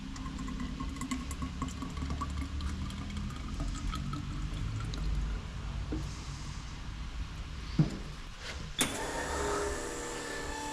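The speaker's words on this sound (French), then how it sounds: "Donc on verse notre additif dans le réservoir." Transmission additive is poured into the reservoir during automatic gearbox servicing, a low steady liquid rush running throughout with a machine hum behind it and a couple of sharp clicks near the end.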